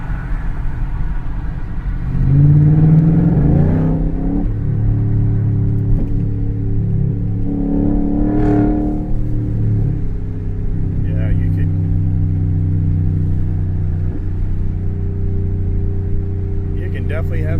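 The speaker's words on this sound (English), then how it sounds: "It'll be kind of interesting to hear this exhaust through some of these underpasses and other places." A loud race truck engine revs and roars through a rumbling exhaust, rising and falling in pitch, with someone talking over it.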